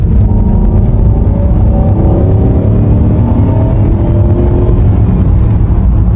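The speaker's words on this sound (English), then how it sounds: "Now people say that this car is all noise, no power" A V8 engine in a Volvo XC90 roars loud and low as it accelerates steadily, a deep continuous drone building under road noise with no voices.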